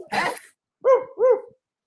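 A dog gives a rough bark, then two quick clear barks in a row, close and loud with quiet gaps between.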